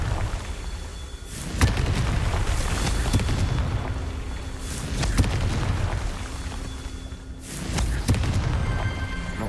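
Confringo spell explosions in Hogwarts Legacy: three loud, booming blasts spaced a few seconds apart over a steady rumbling background, with no talking.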